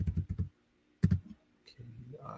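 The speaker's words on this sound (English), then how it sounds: "I think I can type it in here for you." Close computer keyboard typing comes in two quick bursts of clustered keystrokes separated by a pause, followed by a soft low murmur at the end.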